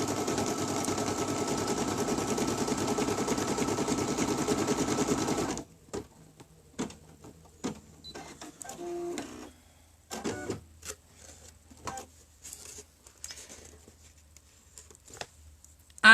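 An embroidery machine stitches the outline of a Betsy Ross flag onto a vinyl keyfob, a dense steady mechanical chatter running loud for about five seconds before stopping, followed by scattered soft clicks and handling noises.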